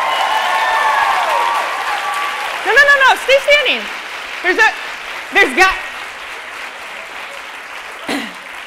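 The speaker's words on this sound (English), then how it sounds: "Let's get a round of applause for everyone here." A conference audience applauds in a dense, steady wash of clapping that fades as someone speaks a few short phrases over the tail end.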